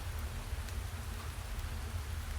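Steady rain falls continuously, a dense even hiss of drops with a low rumbling wash beneath, fairly loud and close with no voices.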